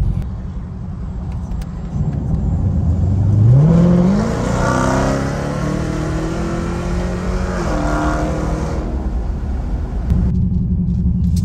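A semi truck drives on the road, its engine rumbling low from inside the cab, revving up through a gear with a rising whine, then settling into a steady cruise, quieter again at the end; no one speaks.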